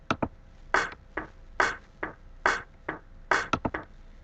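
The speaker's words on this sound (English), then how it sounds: "add a snare to every other beat" A simple FruityLoops Studio 10 drum pattern of alternating kick thumps and sharper snare hits keeps a steady groove, with a quick flurry near the end.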